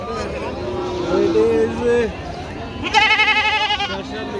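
At a busy rural goat market, a deshi goat gives a wavering bleat early on and a longer quavering bleat near the end, close by, with people talking and market bustle around it.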